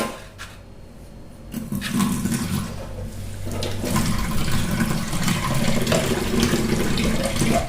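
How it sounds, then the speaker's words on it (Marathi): Water poured from a mixer jar into spiced dough for fried masala puris, first a quiet trickle, then a louder, steady gushing splash that builds and continues to the end, with no talk. "ते आपण मिक्सरच्या भांड्यामध्ये मगाशी मसाला बारीक केलता त्यातच थोडंसं पाणी ओतून मी ह्याच्यात टाकून घेते"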